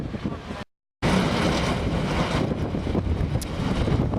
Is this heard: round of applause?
no